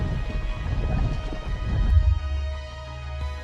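Steady rain patters with a deep thunder rumble swelling midway and then fading, a sound effect playing alone without speech.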